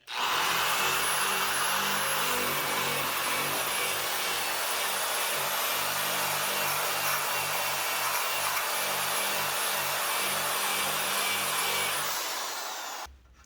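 A power tool strips paint from the bare metal of a 1948 GMC to expose spot welds, giving a loud, steady, high whine that runs continuously for about twelve seconds before stopping.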